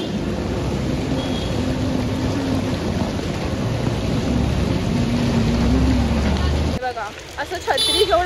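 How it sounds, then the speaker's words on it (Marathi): Heavy, continuous rain pours down in Goa, a dense steady hiss that fills the scene, with a low hum underneath and people talking faintly; the downpour drops away abruptly near the end. "कंटिन्यू पाऊस पडतोय, कंटिन्यू."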